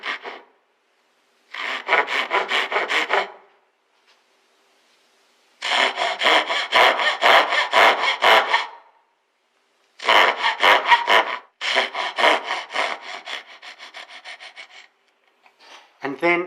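A hand saw cuts the shoulder of a dovetail joint in hardwood for fine furniture, rasping in close rhythmic bursts of strokes separated by short pauses.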